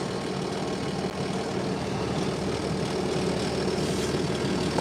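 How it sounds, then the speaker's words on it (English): A 3688 tractor engine idles steadily during hay raking, a constant low, even rumble that holds at moderate loudness throughout without any voices over it. "This is my 3688 if I didn't answer which tractor I'm running."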